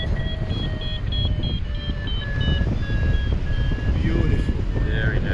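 Rapid repeating electronic beeps from a paraglider variometer in a rising and falling pattern, signaling climb, sound over strong wind rush in flight, with a voice briefly heard.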